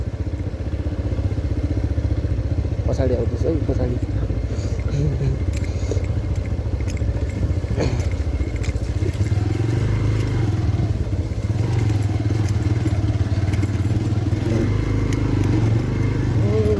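A motorbike rides along a slippery road on the way from Kathmandu toward Dhap Dam, its engine a steady drone throughout with clattering bumps, while voices speak over it.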